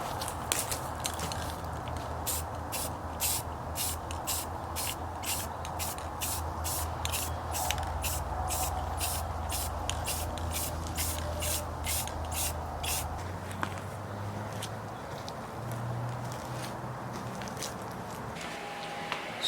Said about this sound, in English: Alright, now let's do a light mist over it just to get the tack coat, and then we can start to spray.